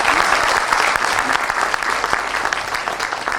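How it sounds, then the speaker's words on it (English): An audience at a business panel discussion in Pune claps loudly and continuously, a dense, even roar of many hands filling the room for several seconds. "Can we have a round of applause for"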